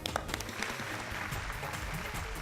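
An audience applauds to welcome guests onto a show, a continuous, moderately faint patter of many hands clapping, with no talk over it.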